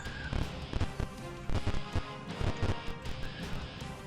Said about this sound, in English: Apparently that was the sound of mining.